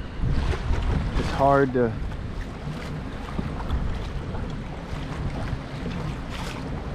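Ocean waves slap against a fishing kayak near St Pete Pier, a rough, continuous wash with wind noise, loud and close, while someone speaks briefly early on.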